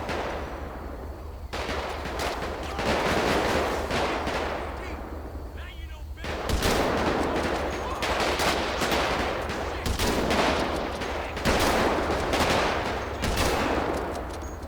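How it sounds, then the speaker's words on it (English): Sniper rifle shots from the video game GTA V with the LSPDFR police mod crack out as a series of loud, sharp blasts spaced a second or two apart, with a dense, noisy game soundscape between them. "But it's just so weird using this sniper rifle."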